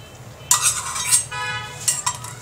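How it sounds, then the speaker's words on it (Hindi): Yogurt is whisked in a bowl for shawarma sauce, with near, bright clinking and scraping of a utensil against the bowl in several quick bursts over a low background hum. "दही डाल के पहले अच्छी तरह से दही को हम बीट कर लेंगे ताकि ये स्मूथ सा हो जाए"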